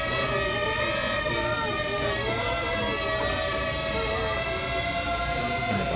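A DJI Tello drone takes off, its small propellers giving a loud, steady, high-pitched multi-tone whine that holds without a break.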